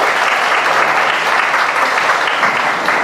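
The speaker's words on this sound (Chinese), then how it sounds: "请掌声鼓励" An audience at a kindergarten graduation ceremony claps in loud, sustained applause that fills the hall evenly from start to finish.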